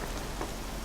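Rain falls steadily and densely in a foggy, windy mountain setting in Horizon Zero Dawn, forming a brief, even wash of noise with no distinct gusts and no speech.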